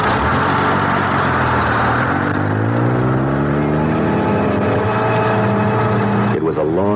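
Low engine drone of a bus on a long ride, a steady rumbling hum with shifting harmonics that rises slightly, heard in a 1974 radio mystery drama, with a brief vocal sound near the end.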